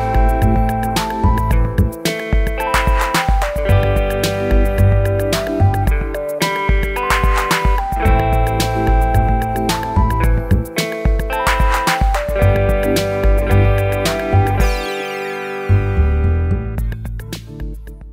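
Open guitar chords from the A section (bars 1 to 8) of the Rockschool Debut grade piece 101, strummed in a steady rhythm with ringing sustain, played alone, close and clear.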